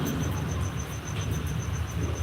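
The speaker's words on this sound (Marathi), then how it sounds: "सकाळ दुपारपासून पाऊस चालू आहे" Heavy rain pours on a farm, a dense, loud, constant roar with a deep rumble underneath that suggests thunder, and a faint insect-like chirp repeating high above.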